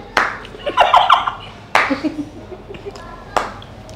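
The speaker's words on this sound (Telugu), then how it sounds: "slow clap" A few slow, spaced hand claps ring out in a bright room during a Telugu food vlog lunch with rabri, each clap sharp and separated by pauses, with voices and small clinks in between.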